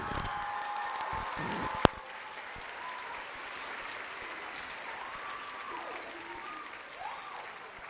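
A hall audience at a state high school speech tournament finals claps steadily for the impromptu speaking runner-up, with a sharp clap or bang near the start and the applause thinning slightly afterward.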